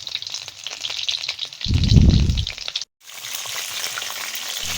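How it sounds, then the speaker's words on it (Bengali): Green chilli rolls deep frying in hot oil make a steady crackling sizzle, with a louder low bubbling burst midway as more rolls go into the oil, then a brief cut before the frying resumes. "এবার বাকি যে রোলগুলো আছে আমি একই রকম ভাবে ভেজে নেব।"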